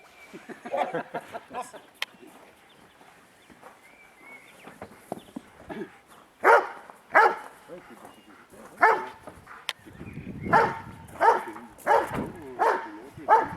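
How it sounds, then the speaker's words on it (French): Cartoonish dog barks ring out in a quick series of sharp yips and woofs, mixed with people talking and laughing around them. "Un chien de dessin animé."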